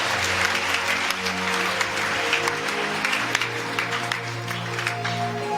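A church congregation clapping together during a worship service, a dense, continuous patter of many hands with a faint background tone underneath, sustained throughout.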